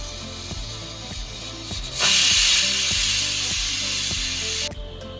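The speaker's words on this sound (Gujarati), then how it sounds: "1 વિસલ ફૂલ તાપે કરશું અને 1 વિસલ આપણે ધીમા તાપે કરશું" A pressure cooker on the stove, full heat, cooking chana dal and rice khichdi, lets out a loud, steady hissing whistle that starts suddenly and holds for about three seconds before cutting off, over a rhythmic ticking background.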